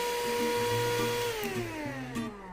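A cordless vacuum cleaner, one of two models being compared (Xiaomi SWDK KC101 and Kurumi KV04), runs with a steady motor whine and a falling pitch, close and continuous with no talk.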